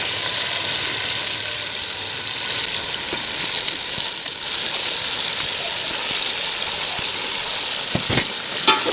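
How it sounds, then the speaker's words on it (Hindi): Chicken pieces frying in a pan for a restaurant-style chicken korma give a steady, loud, close sizzle throughout, with a few brief scraping stirs near the end and no talking. "इसमें चिकन डाल देंगे।"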